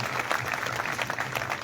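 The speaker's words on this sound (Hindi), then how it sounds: "चलो ये खड़े हो, इनके लिए तालियां बजाएं हम सबके लिए" Audience at a women's college convocation ceremony in Dhand Dadwana, applauding students' parents: a short burst of steady, dense clapping from a crowd, moderately loud and continuous.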